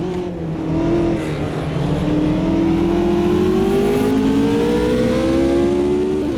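Race car engines in Automobilista 2 scream close by during an overtake at Ibarra, their pitches rising together in a sustained, loud, accelerating whine.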